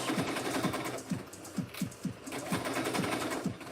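A sewing machine bastes a bag lining along its very edge, stitching in quick rhythmic bursts with short pauses between runs, close and steady with no talk.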